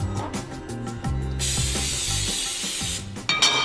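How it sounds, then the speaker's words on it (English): Cooking spray hisses from a can onto the bottom of a crepe pan in a kitchen, one long steady close burst lasting over a second and a half, over background music with a thumping beat. "spray the bottom of the pan."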